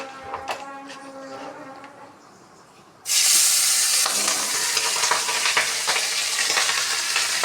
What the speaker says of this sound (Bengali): এইটাতে এখন মাছগুলি ভাজা করে নেব